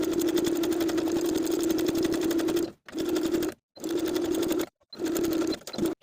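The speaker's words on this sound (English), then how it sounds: "Then we can top stitch with about 1/8 of an inch seam allowance all the way around each armhole using your preferred stretch stitch." A sewing machine topstitches around the armhole of a stretch-knit V-neck tank dress with a stretch stitch. A long steady whirring run is followed by several shorter bursts separated by brief silent pauses, close and alone.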